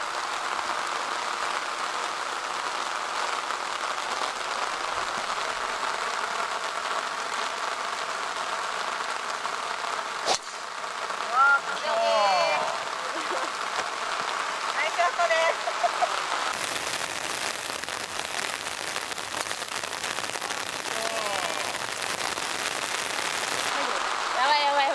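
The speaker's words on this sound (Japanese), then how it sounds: "雨だよね。" Steady heavy rain pours down across a golf course, a dense continuous hiss throughout, with occasional voices talking under the downpour.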